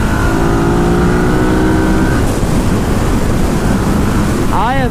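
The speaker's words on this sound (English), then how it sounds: "I have never been on a V-twin that pulled this hard at these highway speeds" A Buell V-twin motorcycle at highway speed, heard as a loud, steady engine drone with heavy wind rush buffeting the microphone throughout, plus a brief rising tonal sweep near the end.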